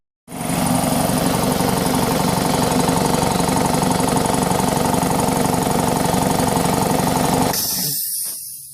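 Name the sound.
25 gallon air compressor running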